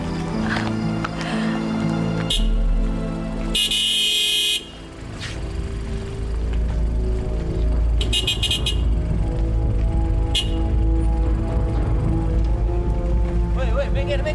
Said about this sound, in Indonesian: Apa nggak dengar suara bunyi klakson apa?